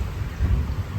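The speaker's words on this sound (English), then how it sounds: "and lightning here at Pulborough Station." Thunder rumbles low and continuous through heavy rain pouring down at Pulborough railway station, a dense wash of rainfall with no voices.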